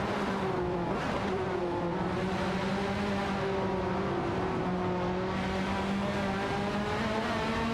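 Engines of a Lotus Esprit GT and an Audi 94 IMSA DTO race car howl steadily in an AI-driven racing game, with rising and falling revving tones and faint tire squeal layered over a constant roar.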